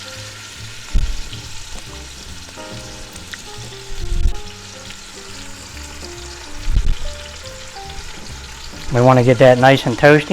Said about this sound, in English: so we're going to take our meat and lay it right in there. And saute both sides for a couple minutes.